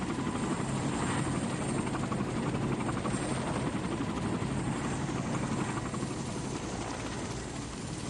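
An American military helicopter's rotor in the Vietnam War thrums steadily and loudly throughout, a continuous throbbing drone with no voices.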